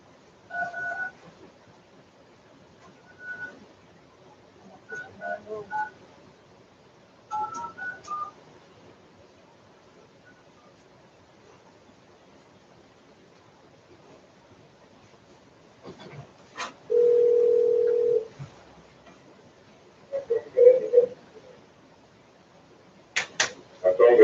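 Telephone keypad tones beep in short clusters as a number is dialed during a board meeting, followed by a steady held tone. Quiet gaps separate the bursts, and voices talk faintly at times.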